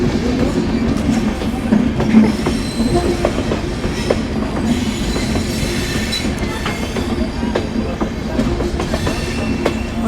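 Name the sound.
train passing by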